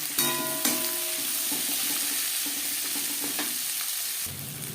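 Onion and garlic fry in a pan with a steady, close sizzle that runs throughout, broken by a few sharp stirring scrapes and clinks; no one talks.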